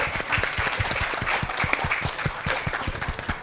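An audience at a debate on the existence of God welcomes a speaker with brisk, continuous applause, many hands clapping close together throughout.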